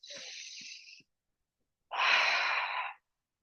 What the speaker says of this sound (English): One more big breath in and out